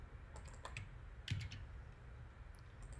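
Quick clusters of keystrokes tapped on a computer keyboard while Java code is entered, faint and close, with scattered clicks across a quiet room hum and no talk.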